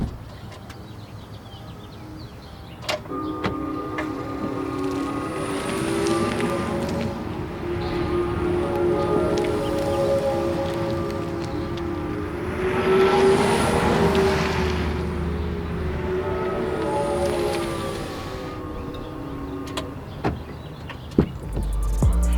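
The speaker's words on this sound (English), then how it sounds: "I'm going to show you guys how quiet this thing is when I take off" A 2021 Kia Niro EV EX Premium electric car pulls away quietly, its soft rising electric whine and gentle tonal hum building and easing over the drive, with low road noise and a few faint interior clicks.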